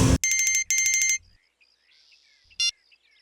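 A mobile phone rings with an electronic tone, two long bursts of rapid warbling beeps followed by a short final chirp, loud and close in an otherwise quiet room, with no voices.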